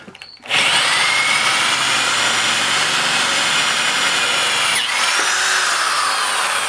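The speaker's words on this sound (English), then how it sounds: "now I've got a hole drilled" Power drill boring a hole through low carbon steel lubricated with oil, a loud continuous grinding whine running almost the whole time with one brief dip near the end.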